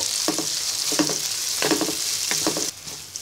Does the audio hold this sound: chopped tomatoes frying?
yes